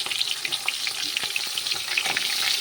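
Hilsa fish heads fry in a generous pool of hot oil, giving a steady, close crackling sizzle with scattered sharp pops throughout, and no voices present.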